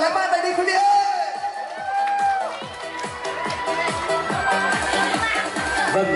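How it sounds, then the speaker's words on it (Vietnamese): Wedding guests at a proposal during a Vietnamese wedding ceremony cheer and whoop as a crowd. The cheering is steady and fairly loud throughout, with a bright whistling tone and rhythmic background sound running underneath. "Một tràng pháo tay thật lớn dành cho màn cầu hôn tuyệt vời và lãng mạn này đi quý vị ơi."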